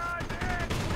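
Gunfire in a Company of Heroes multiplayer battle, with an anti-tank gun firing at an M8: a quick cluster of sharp, close shots over a busy battlefield din.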